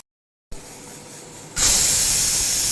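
After a moment of silence, a pressure cooker of carrot halwa releases steam in a steady hiss, which then jumps to a louder, brighter whistling rush that carries on to the end.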